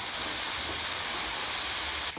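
Bacon cooking in a pan gives off a steady, loud hiss of sizzling fat that carries evenly through the whole stretch with no speech over it.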